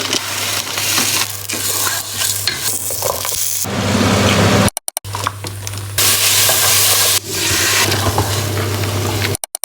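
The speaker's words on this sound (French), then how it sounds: "Je vais faire revenir un peu d'oignon, un peu d'ail" Onion and garlic sautéing in olive oil alongside green lentils, a continuous loud sizzle with spoon stirring and scraping, broken by a brief cut partway through.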